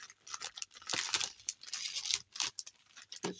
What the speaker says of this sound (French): le scotch est dur à enlever. Enfin, c'est pas du scotch, c'est du double face.